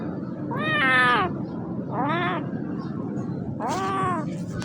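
A cat meows on a rooftop: three distinct, drawn-out meows spaced a second or so apart, fairly close and clear over faint background noise.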